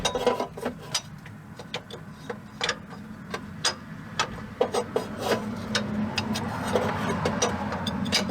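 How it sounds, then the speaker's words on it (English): A timing belt pulley on a 2006 Volvo S80 T6 with the B6294T 2.9L engine, wiggled by hand, gives off irregular light clicks and knocks, close by and fairly quiet, with no talking. "getting behind the pulley and just wiggling it about a little bit gently"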